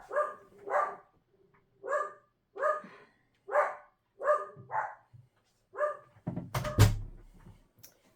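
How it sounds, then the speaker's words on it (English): Dogs bark repeatedly in short, evenly spaced bursts, fairly close, ending with a louder clattering knock and a few more yips. "No telling what they're barking at"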